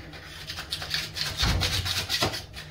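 A sharp chisel scraping old silicone sealant off a shower tray, producing close, rough rubbing strokes in short repeated passes with no talking.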